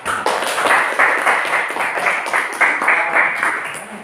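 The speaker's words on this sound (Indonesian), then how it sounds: "aplaus lagi semua." Classroom applause from a group of students, steady dense clapping in rhythmic waves lasting several seconds, fairly loud and close, with no talking over it.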